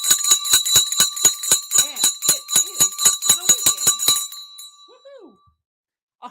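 A market closing bell rung by hand in rapid, steady strokes, about twenty bright metallic dings over four seconds, loud and close, then fading into a brief silence.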